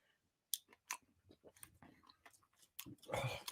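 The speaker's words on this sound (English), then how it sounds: "If he can get through chewing that bite of food." Someone chewing a bite of hot food, wet smacking and crunchy mouth sounds close up, several irregular bites and chews with a louder burst near the end.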